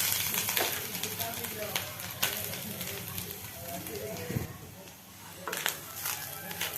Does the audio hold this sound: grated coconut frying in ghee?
yes